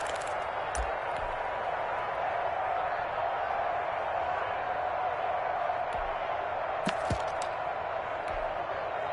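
Stadium crowd noise in an American football video game, a steady distant roar of fans with faint scattered cheering and clapping throughout, no distinct peaks.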